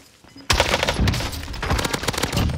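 A FARA 83 rifle fires in the video game Call of Duty, a loud, rapid automatic burst that starts abruptly and keeps rattling steadily to the end.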